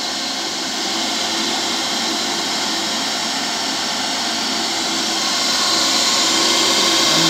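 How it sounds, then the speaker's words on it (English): A cylindrical grinding machine's wheel spins at high speed, giving a steady, dense whir that holds constant and swells slightly toward the end, with no voices. "the grinding wheel rotates very fast as compared to your workpiece surface"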